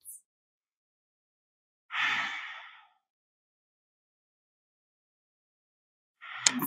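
Slow breathing while holding triangle pose in a yoga session: one soft, audible exhale around the middle, then another breath starting near the end, with silence between them.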